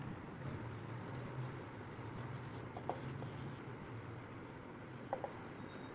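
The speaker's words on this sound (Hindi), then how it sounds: "तो जो मेरा पहला हेडिंग है वो मैं लिख रही हूँ" A pen or marker writing a heading on a board during a Class 8 history lesson, a faint steady scratching with a few soft taps, heard alone against low room hum.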